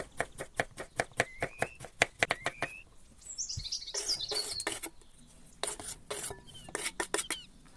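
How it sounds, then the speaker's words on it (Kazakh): Knife chopping cucumber into long medium-sized strips, a run of quick crisp cuts close by on a board, then a pause and a few more scattered chops, with birds chirping in the background. "Қиярымызды осындай орташа размерде ұзынша етіп турап аламыз."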